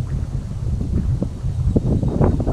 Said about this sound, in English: Probably crazy windy, I apologize.